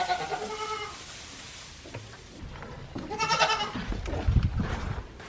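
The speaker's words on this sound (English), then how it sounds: "I'm being swarmed by goats." Goats bleat repeatedly at close range, several calls overlapping as the herd crowds in, with no talking.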